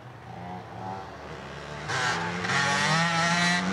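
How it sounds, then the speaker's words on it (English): A motor vehicle, likely a motorcycle, passes outdoors on the Olympic Peninsula in Washington State, its engine hum swelling from faint to louder and steadier as it approaches, with no talk. "There goes somebody on a motorcycle."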